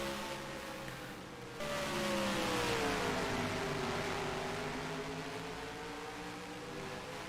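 Outlaw late model race car engine running practice laps at night at New Smyrna Speedway, a steady droning roar with a rising-and-falling pitch as the car passes, loud and continuous throughout.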